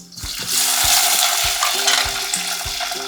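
Tomatoes dropped into hot oil with garlic in a pan for a fish curry, a loud steady sizzle with regular clanks of a spoon stirring against the pan.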